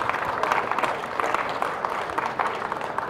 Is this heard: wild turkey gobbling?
no